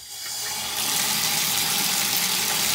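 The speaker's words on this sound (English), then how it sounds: "I am going to turn on this water." Shower water gushing from a shower head after the tap is opened, a rushing hiss that starts quieter and swells to a steady loud spray within a second, continuing alone.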